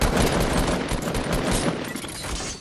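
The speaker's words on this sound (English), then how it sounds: "There's more people shooting at us." Dense Fortnite gunfire rattles close and loud, a rapid unbroken burst of shots overlapping for the whole stretch.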